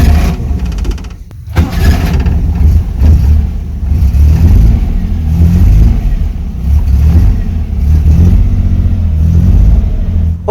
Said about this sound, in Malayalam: ഓക്കെ, നമ്മുടെ വണ്ടി സ്റ്റാർട്ട് ആയിട്ടുണ്ട്.